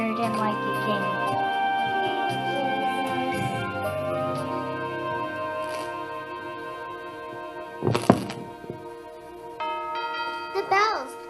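Bells ring out in a dramatic film scene, their sustained tones layered with music and speech, with a sharp, loud peal near the end.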